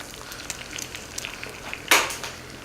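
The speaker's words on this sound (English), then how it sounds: "we're just going to fry these eggs" Eggs frying in a pan over a medium flame give a soft, steady sizzle, with a sharp, louder crackling burst about two-thirds of the way through before it settles back to a gentle hiss.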